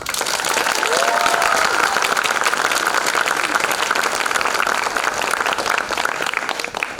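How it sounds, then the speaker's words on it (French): Loud, sustained applause from a large audience for the participants of a contest, thick and even from start to finish, with a faint cheer or whistle early on. "je vous demanderai d'applaudir très fort tous les participants"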